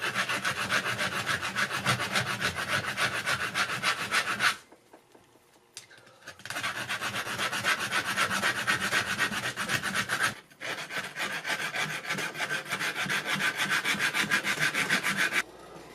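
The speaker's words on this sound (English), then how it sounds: "I'm just going to grind away on George Washington's face." A silver coin has its center hollowed out by grinding while being made into a ring, giving a steady, harsh abrasive rasping. Two long stretches of rasping are broken by a short quiet pause, and a third stretch follows.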